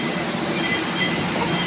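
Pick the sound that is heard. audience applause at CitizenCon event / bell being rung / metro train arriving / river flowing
metro train arriving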